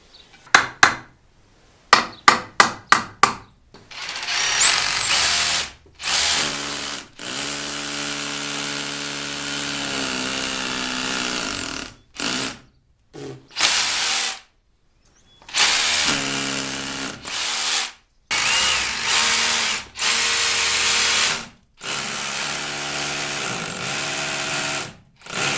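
A power drill driving screws into a wall for a tool wall, loud and close, in repeated whirring bursts separated by short pauses, with a few sharp taps at the start.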